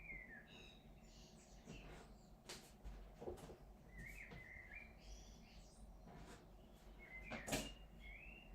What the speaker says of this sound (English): Do you hear birds chirping?